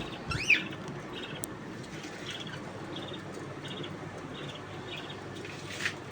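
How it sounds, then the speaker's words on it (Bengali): Yellow pet budgerigars chirping indoors: faint, scattered short chirps over a steady background hiss, heard at a quiet distance without any talking. "হলুদ হলুদ পাখিগুলো কি সুন্দর টস টস করতেছে, খেলা করতেছে।"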